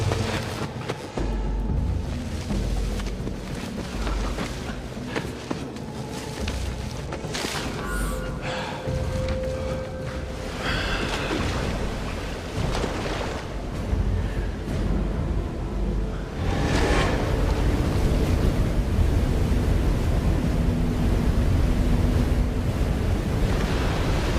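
Water rushes over a steep jungle waterfall in the film Apocalypto: a dense, continuous roar with no pauses that swells louder partway through and stays heavy to the end.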